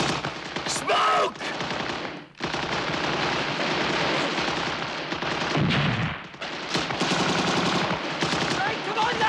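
Machine gun fire in a World War II battle scene, continuous loud rattling bursts of automatic gunfire filling the soundscape, with brief gaps, explosions and shouting voices mixed underneath.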